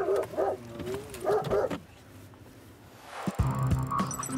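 A police dog barks in several sharp, close bursts at the start, then quiet, followed by a vehicle horn blaring loudly near the end.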